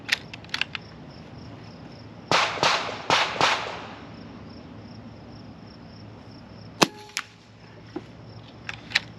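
AEA Challenger .25 caliber air rifle fired into dirt on a range day, several sharp, close cracks, some in quick clusters and others spaced apart, over a constant background of chirping insects.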